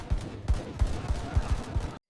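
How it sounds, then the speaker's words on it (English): Weapons firing during a World War II raid on the Cabanatuan prison camp: loud, rapid shots in an even rhythm, about three per second, stopping abruptly. "weapons firing."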